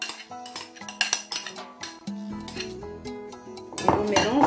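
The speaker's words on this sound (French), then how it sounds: "Je mélange le persil, le citron avec la pêche et tous les autres ingrédients dans mon" A utensil scrapes and clinks against a dish as taboulé salad with parsley, lemon and peach is stirred, giving close, irregular metallic taps and a few scraping strokes.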